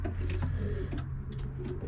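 Racing pigeons in a breeding loft coo softly and steadily, a low repeated murmur with faint higher chirps and rustles, close by with no talk.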